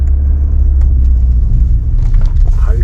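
A car engine rumbles loudly and steadily while driving on a dusty high-altitude mountain road in Ladakh, where the thin air leaves it short of power. The deep rumble continues throughout with faint rattles on top.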